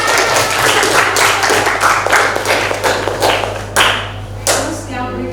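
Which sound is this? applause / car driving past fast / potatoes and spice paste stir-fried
applause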